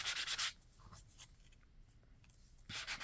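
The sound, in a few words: sanding a craft surface after applying gesso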